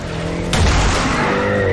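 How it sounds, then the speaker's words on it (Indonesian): A car speeds in with a sudden loud burst of engine roar and tire squeal, holding a steady, close, aggressive rush as it charges toward an old man in a film. "Tiba-tiba, ada mobil yang mencoba untuk menabrak si kakek."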